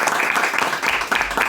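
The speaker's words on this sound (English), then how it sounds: "Let's have a huge round of applause" Audience applause at a farewell club meeting session, a short burst of brisk, uneven hand clapping from a modest group in a room, fairly close and continuous.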